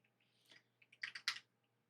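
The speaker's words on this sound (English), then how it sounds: "So I've been typing for like 3 hours straight." A computer keyboard is tapped in a quick, faint burst of a few keystrokes, with soft scattered clicks before it. The keys sound close but quiet, over a low background hum.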